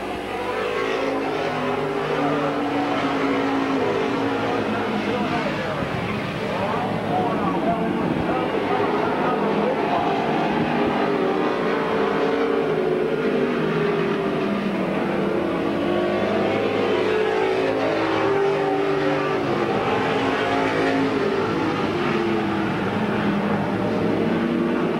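Race cars roaring around Midvale Speedway in 1999, a continuous loud engine drone rising and falling as the field passes, with an announcer calling the race over it.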